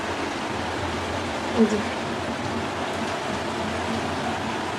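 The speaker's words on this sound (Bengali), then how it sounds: "এইমাত্র বৃষ্টি শুরু হয়েছে, এইমাত্র নয় একটু আগে বৃষ্টি শুরু হয়েছে, ভালোই বৃষ্টি হইতেছে।" Steady rain falls outdoors on Eid day, a broad continuous hiss that holds at an even level throughout, with a brief voice speaking once near the middle.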